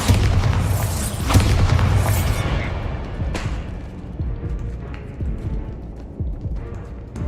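A Bombarda explosion spell cast in Hogwarts Legacy, a loud deep boom with a bright crackling burst that fades into a rumbling tail, followed by scattered softer game impacts.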